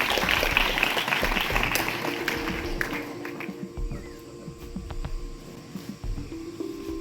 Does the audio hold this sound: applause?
yes